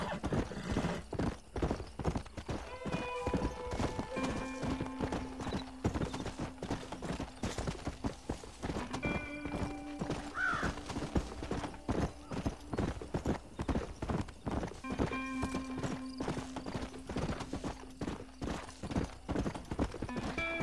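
Continuous, even clip-clop of a ridden horse's hooves across rocky Old West ground in Red Dead Redemption, with a few whinnies, some game music tones and brief talk mixed in.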